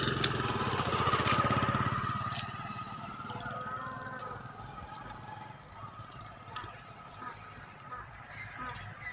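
A motorcycle engine passes close by on a road, loud at first and fading away over a few seconds, leaving faint background noise.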